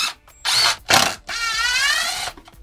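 Screws are backed out of a wooden cross cut sled in short bursts of a whirring driver, several separate runs with brief pauses, the last one longer, close and fairly loud.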